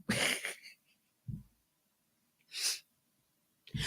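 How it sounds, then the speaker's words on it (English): A person sneezes close into a microphone, a sharp burst followed by snorting breaths and a second sneeze-like blast, loud and near with no talk. "I'm in here sneezing on his mic"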